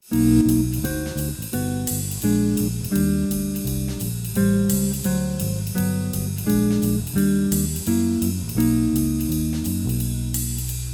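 A guitar plays a sequence of sustained guide-tone chords through the changes of the first eight bars of a tune, with a clear, ringing sound, moving steadily alone at a moderate tempo.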